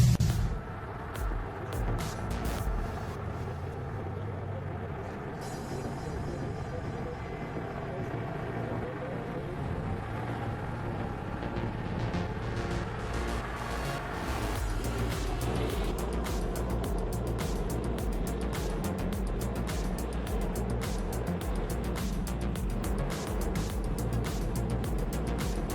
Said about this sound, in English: Kenworth C500, also known as the American Buffalo, is a super heavy-duty truck